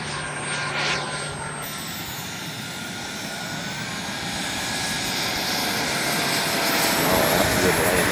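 A model jet aircraft comes in to land at a jet flying meet, its engine a loud, steady roaring whine that builds slightly as it nears, with no talk over it.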